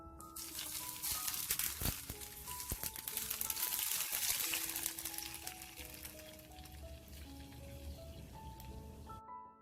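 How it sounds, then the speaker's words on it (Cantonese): Hot oil hits steamed scallops topped with scallions, garlic and vermicelli, a loud crackling sizzle that swells for a few seconds and then fades, with soft music playing underneath. "炸翻啲滾油落去。"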